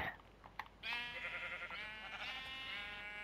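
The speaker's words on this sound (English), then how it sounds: "Yeah, sheep." A Minecraft sheep gives one long, close, wavering bleat that starts sharply and fades slowly, following a quiet moment with a few faint clicks.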